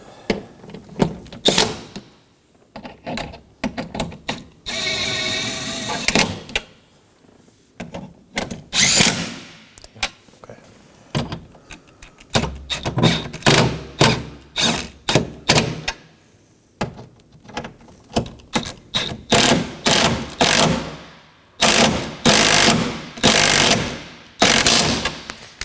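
Bolts on a front window regulator of a 2018-2024 Chevrolet Equinox being snugged down with a power tool, close bursts of ratcheting whir separated by short pauses and clicks, loud and alone.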